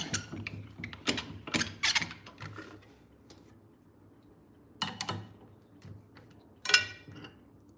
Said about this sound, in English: now we change the drill bit.